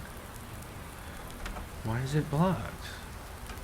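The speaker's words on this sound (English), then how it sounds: "I know it's raining" Rain falling on a farm in Bucks County, Pennsylvania, a soft steady patter throughout, with someone briefly speaking over it midway.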